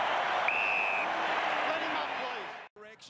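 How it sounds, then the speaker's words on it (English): Collingwood fans in an AFL finals stadium crowd giving a big cheer, a broad roar with whistles that swells and then drops off near the end, while a commentator talks over it. "the Collingwood Army give it a big cheer"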